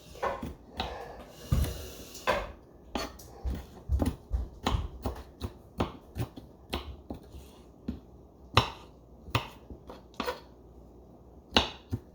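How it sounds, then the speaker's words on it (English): A knife mincing jalapenos on a cutting board gives sharp, irregular taps, some in quick clusters and some spaced apart, clear and close in a quiet home kitchen. "I tend to mince up my jalapenos pretty fine"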